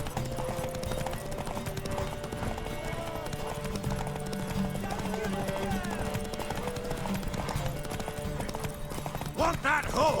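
A horse gallops in The Witcher 3, its hoofbeats pounding in a fast continuous rhythm beneath game music and shouting voices, with a whinny near the end.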